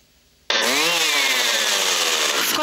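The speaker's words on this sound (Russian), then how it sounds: "В канун крещенской ночи на сотнях водоемов жужжат пилы и трещат топоры." A saw starts abruptly and cuts a hole in pond ice for Epiphany bathing, a loud, steady motor buzz with a wavering pitch that holds until the end.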